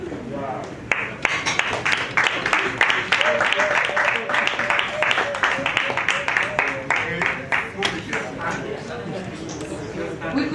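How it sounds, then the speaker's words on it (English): Audience at a mental health awards ceremony clapping for an award winner, a sustained round of clapping while a presenter talks over it. "We could keep clapping until she gets here."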